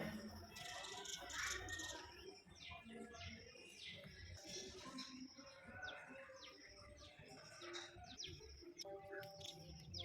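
Many small birds chirp and tweet all around a house, a dense, continuous chorus of overlapping calls from several directions, some close and some farther off, with a faint rattling in the background.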